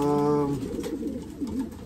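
A racing pigeon in a breeding loft gives a soft, low coo near the start, then fades into quiet rustling and murmur.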